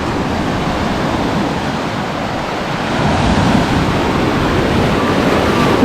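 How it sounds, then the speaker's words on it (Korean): Strong ocean waves surge and crash continuously off the coast of Tanzania near a boat, a loud, dense roar mixed with wind noise that swells louder partway through. "우와, 파도 왜 이렇게 세?"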